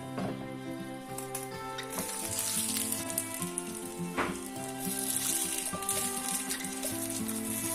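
Börek-style breakfast batter fries in a covered pan with a steady, close sizzle and crackle that runs unbroken throughout, with no talking.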